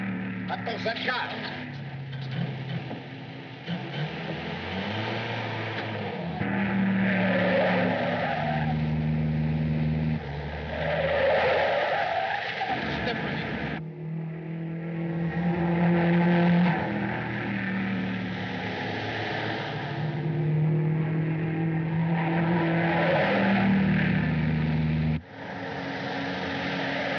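A car chase in a 1939 city: engines roar continuously with repeated tire skids and swerves, loud and close, while people talk over the noise.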